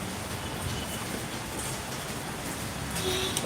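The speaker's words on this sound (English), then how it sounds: "It's raining rather heavily, so my activity will be restricted now." Heavy rain falls outdoors in a steady, even hiss of drops with no voices, a constant wash of sound throughout.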